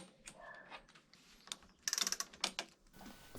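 A torque wrench tightening a square-taper UN-300 bicycle bottom bracket to 55 Nm, giving quiet ratcheting clicks in a quick burst of several ticks amid faint mechanical handling noise.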